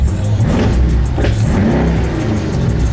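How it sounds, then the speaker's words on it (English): Car engine revving nearby, a loud, rough mid-pitched roar that swells and holds for a few seconds with no talk over it. "let us get one rev for the car"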